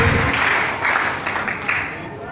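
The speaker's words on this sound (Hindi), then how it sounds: "मैं चाहूँगा एक बार आप सभी लोग अपने लिए जोरदार ताली बजाएं" Audience at a corporate marketing function in Goa applauding together, a dense, sustained wash of clapping that swells and dips slightly over a couple of seconds, with murmured voices mixed in.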